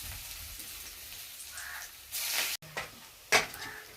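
Onion fritters (bora) frying in hot oil, a soft sizzle that swells in short bursts as batter is dropped in, close by and fairly quiet with brief clatters.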